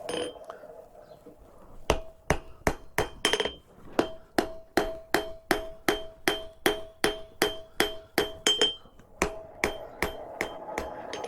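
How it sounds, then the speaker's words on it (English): A light hammer strikes in a fast, even rhythm while forge welding railroad spike tongs, about twenty sharp ringing blows on hot steel, each with a bright metallic ping, loud and close. "And I'll stay with that light hammer just so I can get more forge welding blows in on it."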